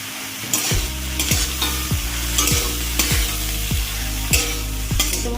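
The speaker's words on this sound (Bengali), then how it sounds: "তো ভাজা হয়ে গেছে শাপলা।" Water lily stems fry in hot mustard oil with a loud, continuous sizzle, broken by regular scraping strokes of a spatula against the pan about every half second; close up, with no voices.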